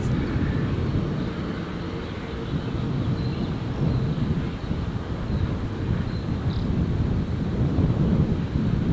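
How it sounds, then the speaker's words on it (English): An aircraft near Gold Coast Airport rumbles steadily with a low, broad roar under gusting wind, sustained and fairly loud throughout with no voices. "What an aircraft I can hear."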